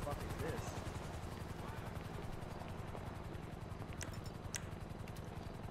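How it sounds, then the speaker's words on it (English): Helicopter in Grand Theft Auto V, its rotor chopping as an even, rapid pulse at low volume throughout, with a couple of brief sharp clicks partway and a voice talking faintly over it. "The only thing that's in here is the helicopter."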